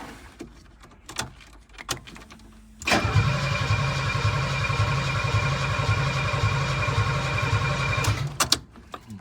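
Mercedes R107 engine cranking on a Bosch fuel pump in its first start attempt in years: a loud, steady rhythmic starter churn that runs about five seconds, with clicks and knocks before and after.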